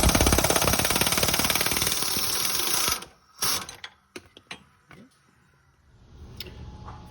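Ratchet with a 13/16 socket turning a rear control arm bolt on a Porsche 986, a dense run of rapid clicking for about three seconds, then a few scattered clicks and knocks, close up.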